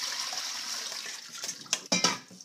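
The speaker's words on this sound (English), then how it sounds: "next we're going to drain the quinoa" Water pours off soaked quinoa as it is drained, a soft steady trickle and splash that ends in a few louder sloshing bursts, fairly quiet and close with no voices.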